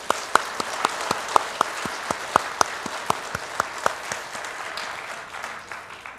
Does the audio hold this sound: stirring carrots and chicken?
no